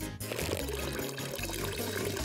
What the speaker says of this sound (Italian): Guarda questo simpatico distributore d'acqua!